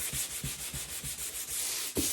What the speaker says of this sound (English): you got it sanded where it's pretty smooth